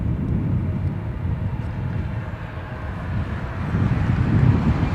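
A Delta airliner departing Los Angeles International Airport toward New York City gives a steady low jet rumble that swells slightly toward the end, heard at a distance with some wind buffeting.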